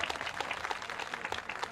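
An audience claps at a public de-addiction programme in a village, dense, rapid applause from many hands that is sustained evenly throughout.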